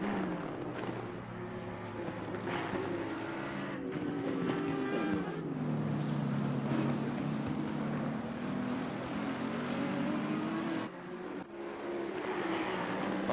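GT3 race cars in the Real Racing game, a pack of engines droning and rising in pitch as they pass, steady and fairly close, with gear changes and shifting revs throughout and no talk.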